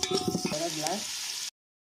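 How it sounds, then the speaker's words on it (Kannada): Onion frying in a pan for Tyson chicken sukka, a short burst of sizzling and stirring that cuts off after about a second and a half. "ತುಲೆ ನೀರುಳ್ಳಿ ಮತ್ತು ಪಾಡಿಯ ಒಂದು ಫ್ರೈ ಮಾಡಿದೆ"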